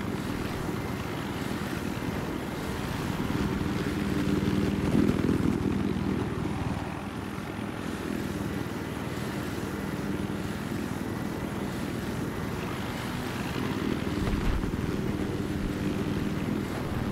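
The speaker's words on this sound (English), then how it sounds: "I got a chopper in sight." A helicopter in the video game Battlefield Hardline flies at steady volume, its low droning rotor and engine roar continuous throughout with no talk over it.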